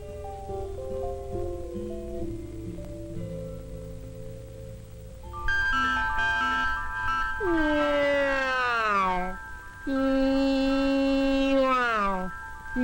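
A soft, steady tone plays, then two long, loud meows with a whining, falling pitch sound close by, like a cat crying for attention.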